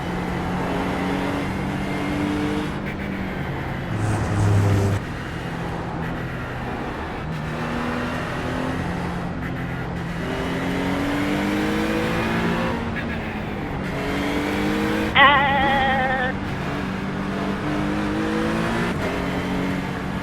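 An Acura NSX race car engine in the iRacing game at Watkins Glen, revving continuously through gear changes and braking, steady and close throughout with a brief tire squeal near the end.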